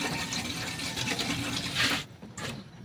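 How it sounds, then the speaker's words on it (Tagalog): Water pours from a container into a cooking pot of pork neck being stewed with mung beans, a steady close gushing fill for about two seconds, then a brief pause and a short second splash. "Maglagay lang tayo mga idol ng tubig"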